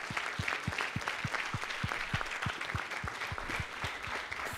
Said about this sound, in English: So please give an applause to everyone who is working on the topic.